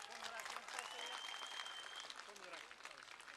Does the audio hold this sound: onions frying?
no